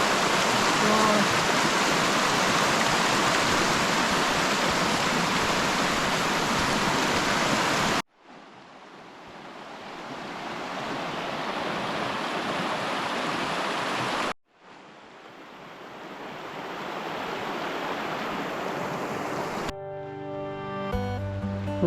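Rain begins falling on a mountain in the Kościeliska Valley during a squall: a dense, steady rushing hiss fills the air, broken by two abrupt cuts and a brief quieter stretch before it resumes.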